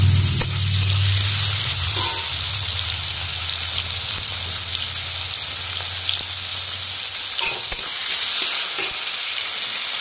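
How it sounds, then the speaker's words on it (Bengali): Potatoes frying in a pan crackle with a loud, steady sizzle over a low rumble early on, and a few sharper stirring clicks come toward the end. "এই দেখো আলুগুলো এখন লাল লাল করে ভেজে নেব।"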